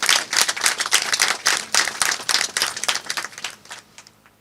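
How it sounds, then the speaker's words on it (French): Crowd applause at a ceremony marking ten years of an international press group, loud, rhythmic clapping from many hands that gradually thins and fades toward the end. "Et je vous demande d'applaudir très fort pour les promoteurs."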